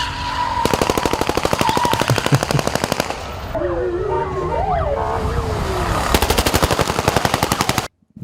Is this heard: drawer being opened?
no